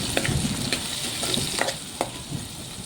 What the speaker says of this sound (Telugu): ఆయిల్ మరిగిపోయింది కదా, ఇప్పుడు ఇందులో ఉల్లిపాయ, పచ్చిమిరపకాయలు, కరివేపాకు యాడ్ చేసుకుందాం.